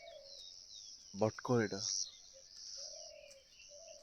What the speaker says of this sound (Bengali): অনেক পাখি টাখির আওয়াজ পাওয়া যায়।